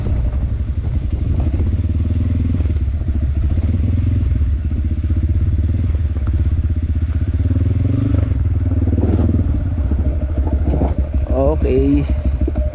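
A motorcycle engine drones steadily on a mountain trail ride in Kibungan, Tacadang, Benguet, close and continuous with wind noise and some clatter, and voices briefly audible near the end.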